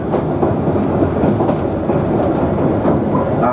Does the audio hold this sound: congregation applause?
no